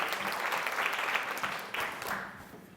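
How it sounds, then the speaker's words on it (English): Conference audience applauding as a session closes, a steady crowd of clapping hands at moderate distance that tapers off toward the end. "A round of applause, please."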